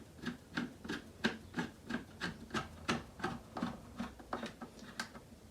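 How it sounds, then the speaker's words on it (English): An Aqualine pool light fixture is tightened into its niche with a rapid, even series of about fifteen scraping, ratcheting strokes, close up and alone. "Then you're going to finish tightening your light fixture"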